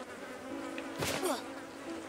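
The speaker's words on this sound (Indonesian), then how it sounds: "Lalat kayaknya." A fly buzzing in the Nintendo Switch game The Cub, a brief swelling buzz over a steady game ambience, close and fairly loud for a moment before fading.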